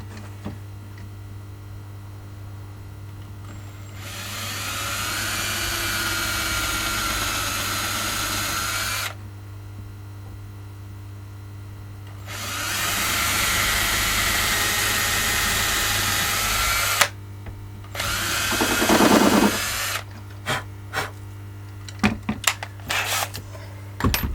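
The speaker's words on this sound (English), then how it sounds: "I'm going to put some screws in it" A power drill drives screws into wood in several bursts of a few seconds each, separated by pauses, ending with short clicks and brief rattling, close by.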